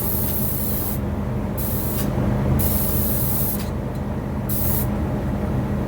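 A spray gun lays thinned post-catalyzed primer onto kitchen cabinet panels, a loud continuous hiss broken by short pauses as the trigger is released between passes.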